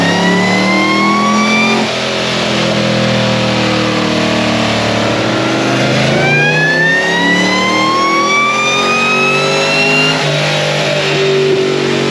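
LSA supercharged drift car running on E85, loud engine revving with rising and falling pitch sweeps, several climbing pulls with supercharger whine, close and alone without talk.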